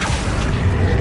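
A spell cast in the Hogwarts Legacy video game, one second of a dense, booming magical burst with a low rumble and a whooshing, mechanical edge, loud and continuous.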